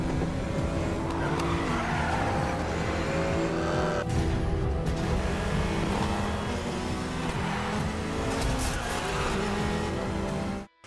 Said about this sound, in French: Codemaster revient au jeu de course avec véhicule urbain dans Grid 2